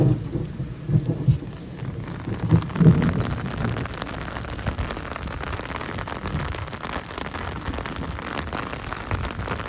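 Heavy rain pours steadily during a thunderstorm, with low rumbles of thunder rolling in the first few seconds under the constant close hiss of the downpour.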